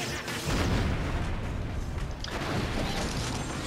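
Explosion in the Crash Tag Team Racing kart racing game: a loud, dense burst of noise that sustains across the whole stretch with rumbling low end and a brief dip midway, dense game sound throughout.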